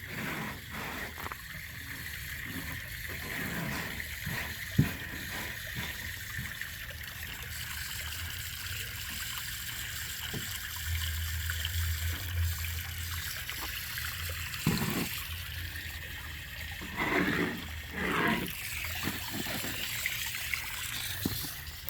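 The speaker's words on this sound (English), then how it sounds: "And it's filling it full of some clean water." Clean water runs steadily into a container outdoors, a continuous trickling pour heard fairly close with no talking.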